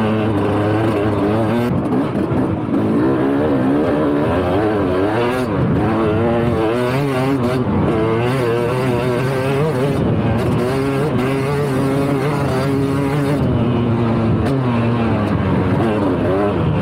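A dirt bike rides a motocross track, its engine note rising and falling continuously with throttle changes, loud and close throughout, with occasional shouted voices mixed in.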